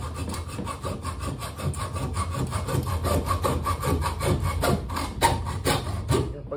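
A hand saw lubricated with chain lube cuts through a bicycle seatpost in steady, rapid back-and-forth rasping strokes that stay close and loud, with no voices.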